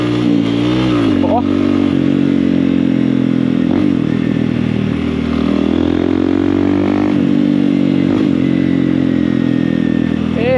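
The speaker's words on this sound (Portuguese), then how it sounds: "Domingão tem que andar de moto." A motorcycle is ridden along a road, its engine droning loudly and close with repeated dips and rises in pitch as it slows and downshifts, wind noise rushing throughout.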